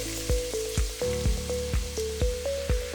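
Finely chopped onions hiss and crackle in moderately hot oil and ghee, a steady close sizzle broken by rhythmic thumps and clinks of stirring about twice a second, with no voices.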